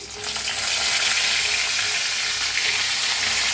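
Eggplant frying in hot oil in a kadhai with cumin, curry leaves and green chillies, giving a loud, steady broadband sizzle that runs close and unbroken throughout, with no voices.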